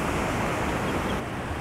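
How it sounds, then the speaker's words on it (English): Large ocean waves break on Venice Beach in a loud, continuous roaring wash of surf, close and dense, with wind noise on the microphone and no talking. "So much power here in these waves."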